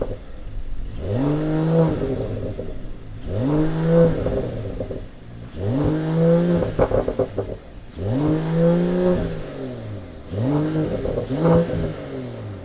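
A 2020 Mercedes-AMG E53 engine, heard close, is revved in five repeated bursts, each rising sharply in pitch and falling back to idle, with brief pauses between them.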